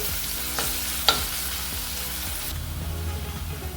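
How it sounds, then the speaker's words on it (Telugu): Chopped onions and green chillies frying in an oil-filled pan for an arbi masala fry, a steady close sizzle with a few sharp scrapes and clinks as the mix is stirred. "ఉల్లిగడ్డ కాస్త రంగు మారేంత వరకు వేపుకోవాలి."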